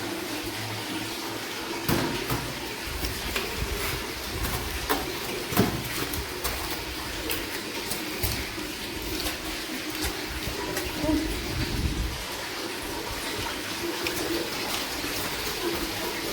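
Water is poured and splashed while cleaning dust and dirt from a floor, a steady rushing wash with occasional louder splashes, moderately close, under faint background voices.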